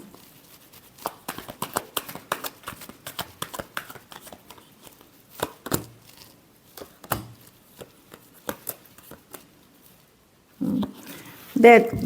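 Tarot cards being shuffled by hand, a series of soft, irregular riffling and tapping bursts close by, with quiet pauses and a louder rustle near the end.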